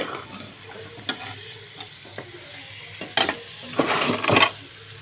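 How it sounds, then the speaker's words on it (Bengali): Boiled potatoes with dried red chili, salt, turmeric and spices being stirred and fried in a pan, with a low sizzle, scattered spatula taps and a few louder scraping bursts toward the end, close by with no talking. "দেখুন আলু দিয়ে কষিয়ে নিচ্ছি"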